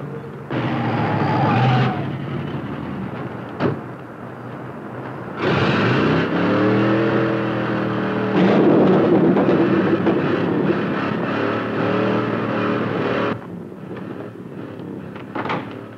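A hot rod from the 1950s roars past in loud bursts of engine noise, with sharp swells that cut in and out over an ongoing low rumble, close and without any talk.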